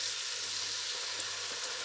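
Keema and potatoes frying in a pan for Punjabi-style aloo keema, giving a constant close sizzle with faint stirring and no voices.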